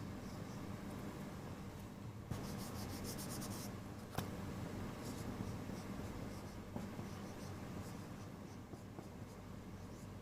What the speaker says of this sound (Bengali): দেখো আমি একটা সাবজেক্ট লিখছি